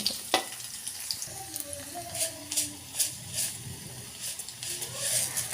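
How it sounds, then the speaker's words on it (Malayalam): Garlic and fenugreek seeds frying in hot oil give a steady close sizzle and hiss, with a few louder pops and stirring scrapes. "എണ്ണയിലേക്ക് നമുക്ക് വെളുത്തുള്ളി ഇട്ട് കൊടുക്കും ഇനി ശകല ഉലുവയും"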